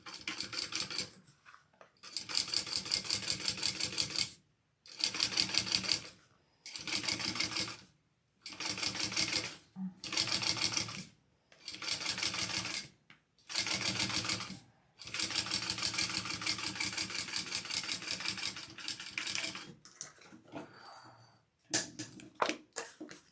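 A sewing machine top stitches a pink solid bag panel, running in about eight close, loud bursts of rapid stitching separated by short pauses, with a longer continuous run near the end followed by handling clatter.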